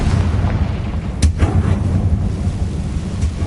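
A Confringo spell blast in the Hogwarts Legacy game lands as a booming explosion burst over a constant rumbling game soundscape, followed by a couple of softer echoing thuds.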